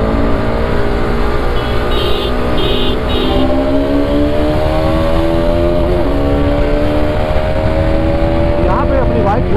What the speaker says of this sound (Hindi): अभी अपनी बाइक थर्ड गियर पे एंड फिफ्टी जाते हैं